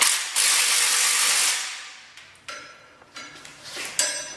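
Ratchet wrench bolting up a torque converter on an LS-swapped turbo Miata kart, a long close rasping run of clicks followed by several short, separate ratchet strokes.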